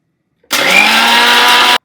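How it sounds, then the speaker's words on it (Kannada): A kitchen mixer grinder whirs as it grinds grated fresh coconut with roasted chickpeas, one loud, steady motor run of about a second and a quarter that starts and stops abruptly, close to the microphone with no talking. "ಇವೆರಡನ್ನು ಕೂಡ ಮಿಕ್ಸಿ ಜಾರ್ನ ರುಬ್ಬಿ ಹಾಕಬೇಕು"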